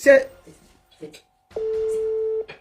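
A phone call waiting to be answered: after a few brief spoken words, a single steady ringback tone sounds alone for nearly a second, close and clear.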